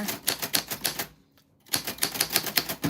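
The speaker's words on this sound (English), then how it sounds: "that's what your name sounds like on a vintage typewriter" A vintage typewriter clatters through rapid bursts of keystrokes, crisp and close, with a short pause of near silence before the typing resumes at the same brisk pace.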